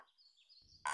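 A single short croak from a cartoon frog bursts out loudly near the end, after faint high whistling tones.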